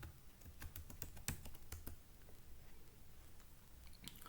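Quiet clicks of a computer keyboard as a password is entered, a quick uneven run of close keystrokes that thins out toward the end, with no talk.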